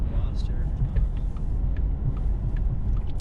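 A souped-up Hyundai Veloster's engine rumbles past on the road, a deep throaty drone heard from inside another car, with people talking over it.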